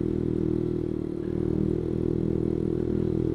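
A Honda CS1 motorcycle engine held under throttle on the road, a loud, steady buzzing drone that dips briefly and then picks back up, heard up close with no talking.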